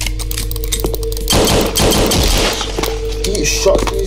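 Rapid automatic gunfire in the video game Mutants, a dense burst of shots lasting a couple of seconds over steady background music and game noise.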